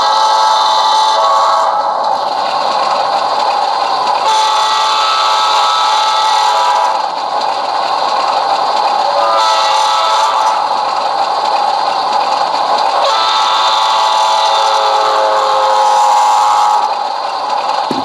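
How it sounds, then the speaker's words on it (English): Railroad crossing horn sequence played from the sound decoder of a Rapido HO-scale Alco PA model locomotive in D&H livery: loud, steady horn tones repeating in several long blasts with short breaks, heard alone. "Function 5, however, which was the railroad crossing horn sequence,"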